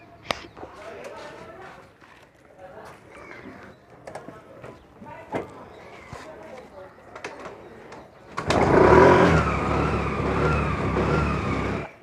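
A car is brought out and driven off: quiet outdoor ambience with faint birds and scattered knocks, then a loud, steady engine and road rumble swells up near the end.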